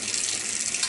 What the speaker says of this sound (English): I'm just going to rinse my hands again